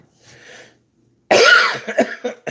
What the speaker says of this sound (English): I'm trying to get my breath, and I have to cough like that